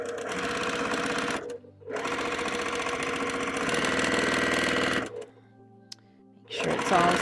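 Sewing machine stitching pieces of fabric for a quilt block, a close steady mechanical whir in two bursts with a short pause between them and a quieter gap near the end.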